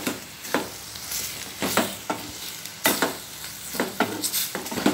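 Tomato masala gravy sautés in a pan, a soft continuous sizzle broken by several sharp scraping stirs of a spoon against the pan, close and clear.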